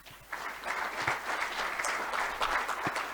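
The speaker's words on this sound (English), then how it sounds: "You can give another clap, please." Audience applause at a conference summit honoring a minister, steady clapping from a crowd filling the room for a few seconds, moderately loud and without talk.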